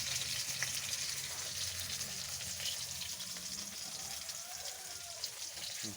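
Steady, continuous sizzling and crackling of sweet potato frying in hot oil, moderately loud and unbroken throughout with no voices.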